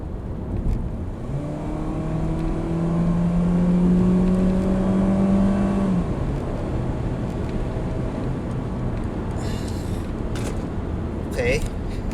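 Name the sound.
Mitsubishi Xpander engine revving while accelerating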